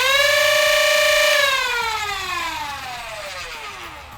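Flywheels of a Nerf Pro Stryfe X blaster spinning up and then winding down, a loud close whine that falls steadily in pitch.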